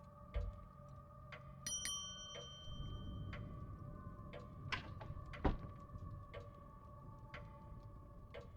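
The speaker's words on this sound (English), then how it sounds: "Let's ring this bell." A counter bell is rung in the detective video game The Séance of Blake Manor, giving a bright, ringing chime over a quiet background with scattered soft clicks.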